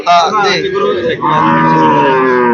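A cow moos at a busy cattle market where pregnant milk cows are checked and sold, a long, loud, drawn-out call lasting a couple of seconds, close by with no speech over it.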